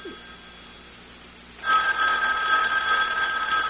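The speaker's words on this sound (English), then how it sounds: "Mrs. Greenway, aren't you going to answer it? Answer? The phone" After a second of quiet room hiss, a telephone bell starts ringing loud and close, holding a bright continuous trill to the end without any voices.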